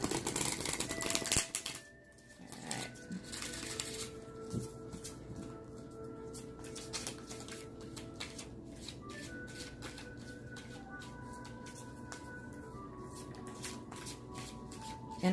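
Tarot or oracle cards being shuffled during a reading session, with quick riffling and soft clicking that runs continuously in a quiet room, fairly faint and close.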